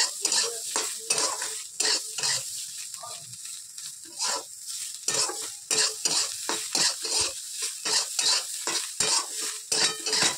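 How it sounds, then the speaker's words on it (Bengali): Meat frying in a small amount of white oil in a wok, a hissing sizzle broken by repeated scraping stirs of a metal spatula against the pan, close and fairly loud, with no talking. "সাদা তেল দিয়েছি দিয়ে ভেজে নিচ্ছি মাংসটা"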